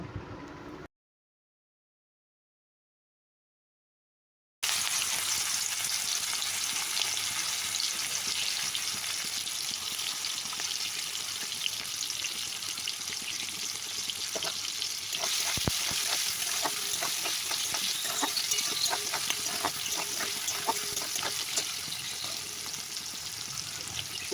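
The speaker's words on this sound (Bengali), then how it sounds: "এবার তেলের মধ্যে চিংড়ি মাছগুলো দিয়ে দেব।" Prawns rubbed with salt and turmeric sizzle steadily in hot oil, a dense, even crackle that starts after a short silence and runs close and loud to the end, with no voices.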